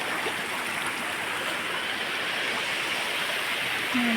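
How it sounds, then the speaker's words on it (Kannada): River water pours over a small check dam in a steady, close rushing hiss that stays even throughout, with no talking. "ನಾವು ಮೊನ್ನೆ ಕಟ್ಟ ಹಾಕಿದ್ದು ನೋಡಿ, ಎಲ್ಲ ನೀರು ಹರಿದು ಹೋಗ್ತಾ ಉಂಟು"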